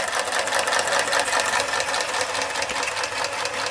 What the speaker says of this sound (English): What a delightful old engine.